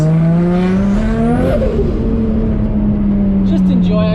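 A built Nissan Skyline R33 with a turbocharged RB25DET engine accelerating under boost, loud and close with a rising engine tone, a gear change, then a steady pull and turbo whistle, with talk over it.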